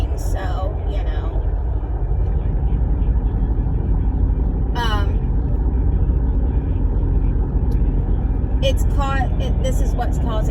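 Steady engine rumble and road noise from a car driving on a road, loud and continuous, with someone talking over it throughout.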